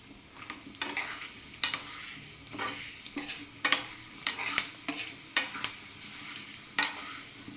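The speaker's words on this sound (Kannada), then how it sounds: "ನಿಮಗೆ ಸಾಸಿವೆದು ಸೌಂಡ್ ಬರ್ತಾ ಇದೆ." Mustard seeds splutter in hot oil for a tempering, made while cooking dal for a GSB-style dalitoy: repeated sharp crackling pops over a steady sizzle, close and fairly loud, with no talking.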